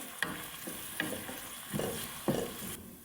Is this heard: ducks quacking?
no